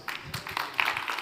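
A conference audience claps at a Devcon VI stage in Bogotá, a brief, faint, distant patter of many hands.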